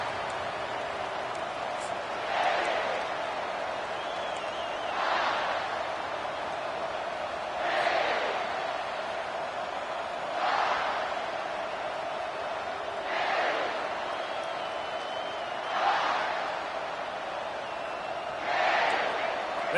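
Football stadium crowd at a Colorado versus South Carolina game, a steady distant roar swelling into loud cheering bursts about every two to three seconds, with an announcer talking over it.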